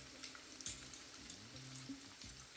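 Panko-and-parmesan breaded fish fillets frying in hot oil in a pan give a steady, close sizzle with fine crackling pops throughout, with no voice over it.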